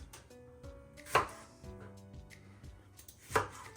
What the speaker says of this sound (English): I'm gonna chop them up just a bit.